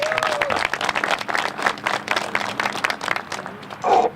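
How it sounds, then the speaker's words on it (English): A crowd claps in a round of applause at a Dave & Buster's groundbreaking ceremony, dense steady clapping lasting about four seconds with a brief tonal sound near the end. "Give him a round of applause."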